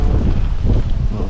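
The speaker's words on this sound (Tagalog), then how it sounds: "Kita mo yan sa lakas ng hangin na yan." Strong wind roars steadily into the microphone outdoors, a loud low buffeting rush with no break for over a second.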